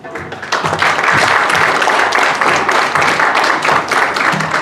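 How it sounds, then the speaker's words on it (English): A crowd at a storytelling celebration claps together, starting after a brief quiet moment and then continuing as loud, sustained applause with a rhythmic pulse. "Clap your hands, everybody."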